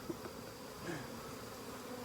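Honeybees from a freshly caught swarm buzz in a steady, faint drone, individual bees passing close now and then over a low outdoor background.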